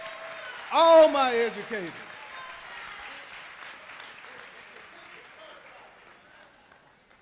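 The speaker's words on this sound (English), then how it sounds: "let's give them a round of applause" A man calls out briefly at a Georgia gubernatorial campaign event in Warner Robins, and crowd applause follows, a soft broad wash of many hands that slowly fades over several seconds.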